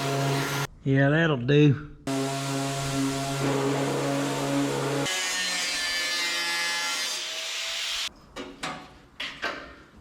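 Random orbital DA sander with fresh 80-grit paper working on the abused sheet-metal body of a 1963 IH Loadstar truck: a steady buzzing hum that shifts pitch midway, then stops, with brief talk at the start and end.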